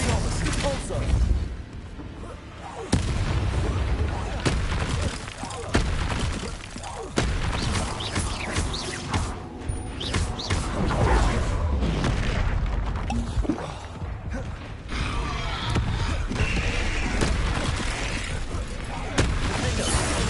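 Spells cast in the wizard video game Hogwarts Legacy, a rapid series of booming blasts, crackles and crashing impacts over constant combat noise, with a voice speaking through much of it.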